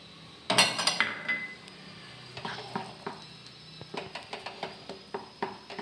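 Cornflour halwa is stirred in a pot, with a sharp clatter of utensils at the start and then a string of light, rhythmic spoon knocks and scrapes against the metal, close up and with no talking.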